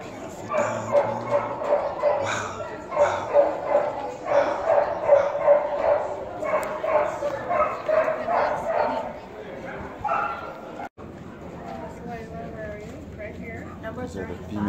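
American Pit Bull Terriers bark and yip repeatedly at a gamebred dog show in Colorado, moderately close, mixed under steady conversation and crowd chatter, with a quieter stretch near the end.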